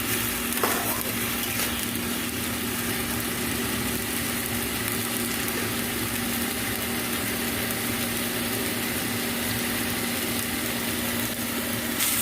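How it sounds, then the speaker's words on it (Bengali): Keema stirred with ginger garlic paste in a pan, a steady sizzle and scraping of the spoon running continuously at close range with a faint engine-like hum underneath, no talk. "As you can see, again Chandni is stirring it for 5 to 6 minutes."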